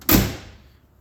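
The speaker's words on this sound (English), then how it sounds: "Doors shut nice." Door of a 1970s economy car shutting, a single solid close thud with a quick decay into quiet, heard alone and near.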